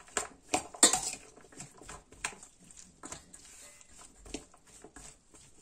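Cheese filling for pide is stirred with black pepper in a bowl, giving soft, irregular clinks and scrapes of utensil against the dish, faint and close, with no talk.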